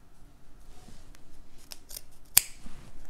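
Scissors snip excess thread while sewing a bra, giving one sharp, close cut against faint handling rustle and no talk.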